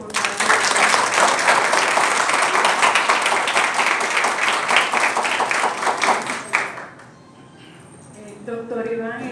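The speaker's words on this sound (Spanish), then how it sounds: "eso merece un fuerte aplauso" A crowd at an event honouring hospital network leaders breaks into loud, dense applause for several seconds. The clapping stops abruptly and a voice then begins speaking.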